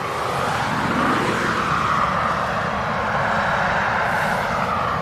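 An aircraft engine roars on the runway at East Midlands Airport, a loud, steady, continuous drone that holds nearly constant throughout.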